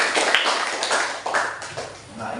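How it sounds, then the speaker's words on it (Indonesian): Classroom applause, a short burst of many hands clapping close by that tapers off over a couple of seconds. "tepuk tangan dulu untuk ketiga"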